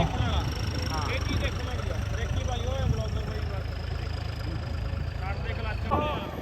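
A tractor engine idles and rumbles at a tractor-trolley competition in a village, a steady low throb running throughout under loud amplified announcer talk and crowd noise.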